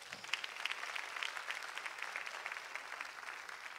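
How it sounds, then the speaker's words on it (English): A church congregation applauding during a sermon, quiet scattered hand claps from a moderately distant crowd, steady throughout with faint voices underneath. "Someone give him a hand clap."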